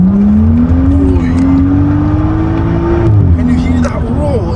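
A BMW M135i with a remapped engine and straight-pipe exhaust roars loudly and steadily, its engine note climbing gradually as it pulls, with people talking over it.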